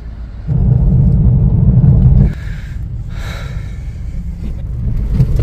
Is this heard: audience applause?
no